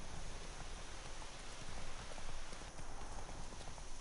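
In The Witcher 3, a horse gallops on with muffled rhythmic hoofbeats under a dense hiss that sounds like rain, the clatter steady and moderately close throughout.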